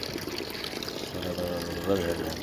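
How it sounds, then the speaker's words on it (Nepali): Continuous water flowing and gurgling into a clay pot, with a person talking over the running water. "यो घैँटाभरि पानी चाहिँ"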